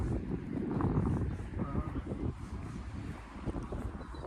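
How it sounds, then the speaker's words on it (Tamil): Wind gusting and buffeting against the microphone at a coastal spot on the Ring of Kerry, Ireland, a steady low rumble that swells and eases over a few seconds. "காற்றடிக்குது பாருங்க, காற்றடிக்குது"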